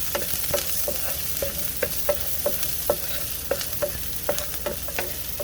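Garlic frying in hot oil in a pan for Filipino menudo, a steady close sizzle with regular sharp clicks of a utensil stirring against the pan, no talking.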